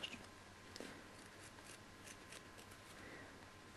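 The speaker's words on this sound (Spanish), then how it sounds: "yo utilizo para esto unas tijeras de uña circulares, que son bastante más cómodas para recortar" Round nail scissors cut through fabric, giving soft, quiet snips and rustling scrapes close by, repeating irregularly over a few seconds.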